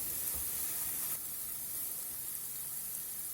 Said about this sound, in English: Just fry this for a minute.